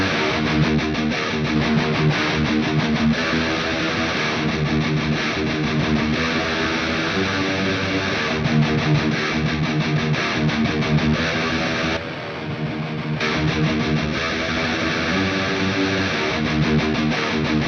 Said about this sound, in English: I'm going to solo both of the guitar tones here